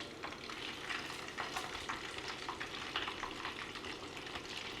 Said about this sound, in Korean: 170도로 달궈진 기름에 생선가스를 넣고 중간불 정도에서 속까지 노릇하게 익을 수 있게